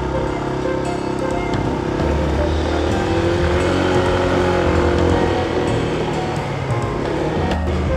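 Honda ADV160 scooter cruising on Thailand's back roads, a steady continuous engine drone mixed with loud wind rush that stays even and close throughout, with no clear breaks.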